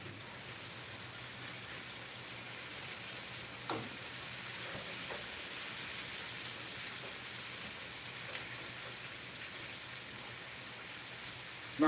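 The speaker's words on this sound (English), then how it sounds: "So we let this still fry a little more." Paella ingredients fry in a pan, a steady fine sizzle and crackle running continuously at moderate level, with a couple of faint clinks of a utensil and no talking.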